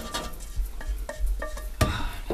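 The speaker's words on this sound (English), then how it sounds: "So I'm just going to pour my mixture into my pasta." A mixture is poured into drained pasta in a pot and stirred, giving a close series of soft wet scrapes and light clinks in irregular bursts.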